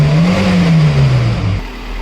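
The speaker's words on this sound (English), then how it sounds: "I'm going to start the vehicle and rev the vehicle and show you the engine noise of the vehicle" A 2008 Maruti Gypsy with MPFI engine idles and revs close up, a loud, throaty engine note rising and sliding back down before settling to a lower idle, with no voices.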